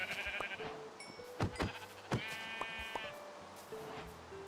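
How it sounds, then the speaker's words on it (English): Sheep in Minecraft bleat a few times, short wavering game-sound baas spaced over a quiet ambient background. "There's a couple of sheep."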